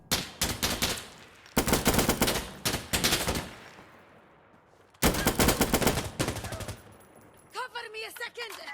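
Rapid automatic gunfire bursts in the game Insurgency: Sandstorm, loud and close, in several long volleys separated by brief lulls, with a voice shouting near the end.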